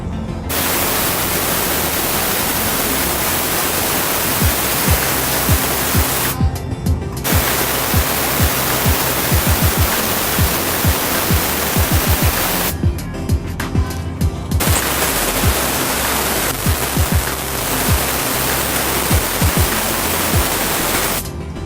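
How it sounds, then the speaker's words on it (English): Compressed air roars out of a truck's air brake tanks as they are drained, a loud continuous hissing blast that stops and restarts twice across the run with brief quiet gaps between. "now we're going to be draining our tanks"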